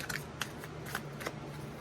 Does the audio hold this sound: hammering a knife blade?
no